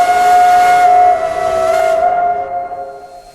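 A steam locomotive whistle in a Roblox train game gives one loud, sustained tonal blast with a hissing edge, then trails off and fades, heard alone with no voices.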